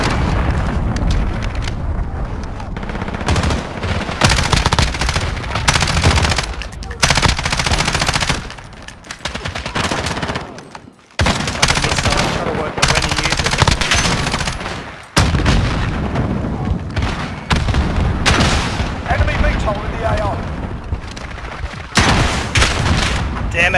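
Continuous Call of Duty gunfire with rapid bursts and heavy booms, loud and dense throughout with occasional brief gaps, and game voice lines mixed in.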